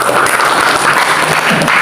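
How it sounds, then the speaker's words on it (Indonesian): A church congregation clapping during a service, dense and loud throughout, steady with no voices over it. "Berikan tepuk tangan"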